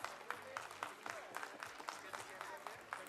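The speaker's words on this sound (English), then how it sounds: "A huge round of applause." An audience at an annual school cultural night and prize distribution ceremony applauds an award winner with steady, dense clapping that carries on throughout, distant and fairly faint, with some crowd noise mixed in.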